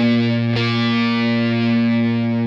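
A Fender Jazzmaster electric guitar rings out in one heavy sustained chord drenched in distortion and reverb, loud and steady with a brief pick attack partway through and no voices.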